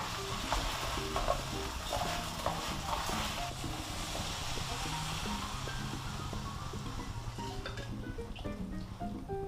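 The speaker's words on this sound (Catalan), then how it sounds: "Anem a afegir els fideus i els sofregirem una miqueta." Noodles for a cod fideuà sautéing in a little oil in a pan make a continuous crackling sizzle, punctuated by irregular clicks and taps of stirring and utensils, with faint background room noise.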